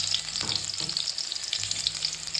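Big onions sizzle and fry in a pan for a Kumari-style chicken curry, a continuous crackling hiss with a few soft stirring knocks.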